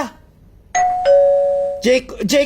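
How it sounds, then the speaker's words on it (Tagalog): A doorbell rings with a clear two-tone chime, each tone held and ringing out, followed by raised voices talking loudly right after. "may doorbell sa gwa"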